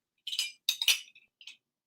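A glass clinks a few times in short, bright taps as someone picks it up to take a sip, with quiet gaps between the taps and no talking.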